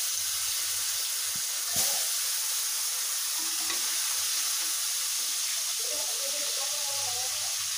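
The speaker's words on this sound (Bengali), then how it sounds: "এরপরে আমি কড়াইতে তেল গরম করে কই মাছগুলো সুন্দরভাবে একটু ভেজে দেব।" Koi fish frying in hot oil in a kadai, giving a steady close sizzle with bubbling hiss throughout and occasional soft stirring clatter.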